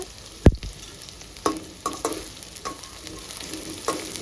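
Onions and curry leaves fry in a pan for a mutton liver gravy, a soft close sizzle punctuated by a loud clank near the start and several sharper crackles and stirring knocks.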